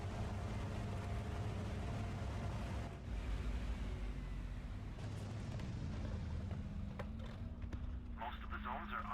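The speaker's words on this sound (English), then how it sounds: "In front of me I can detect another enemy by the sound of the engine." Enemy Tiger II-era tank engine in War Thunder realistic battles, a low, steady mechanical rumble heard at a distance beneath continuous game ambience and faint background noise.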